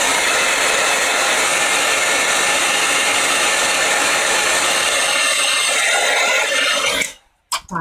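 Heat tool blowing hot air to dry slow-drying Versify ink on a stamped craft project, a loud constant whooshing roar that cuts off abruptly near the end, followed by a brief restart.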